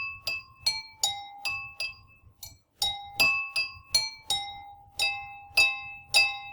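Two spoons strike a row of drinking glasses arranged from highest to lowest pitch, ringing out in a steady, fairly quick sequence of bright clinks with lingering tones, close and clear with no talking.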